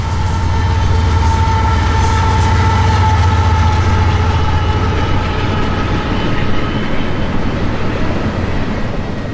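A short nightly intermodal freight train from Tampa's Uceda Yard bound for Jacksonville, one locomotive hauling eight cars with containers, rumbles past in a steady, loud, continuous roar with a tonal hum riding over it.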